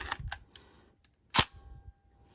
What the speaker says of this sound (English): So you do this to press the shutter.